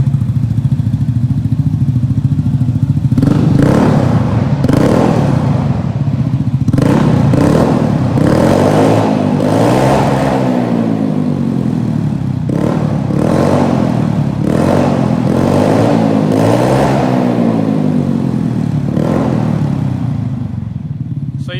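A Vespa GTV 300 S scooter exhaust idles loudly, then revs repeatedly in surging bursts reaching about 120 decibels, each throttle blip rising and falling, close by.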